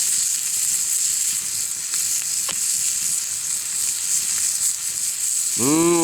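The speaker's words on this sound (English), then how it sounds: "we have our bacon cut in thirds, and we're ready to put it in the fry pan." Cut bacon fries in a pan at a cold winter campsite, producing a loud, continuous crackling sizzle throughout, with a short bird-like chirp near the end.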